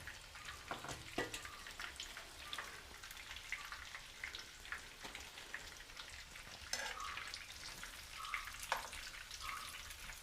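Chicken pieces fry in hot oil for a homemade broasted, KFC-style fried chicken, a soft continuous sizzle and bubbling with occasional scraping clinks of a ladle or spoon.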